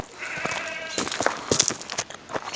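A goat bleats on a mountain trail in Mallorca, several short wavering calls set against outdoor noise with light scuffing, fairly close and moderately loud.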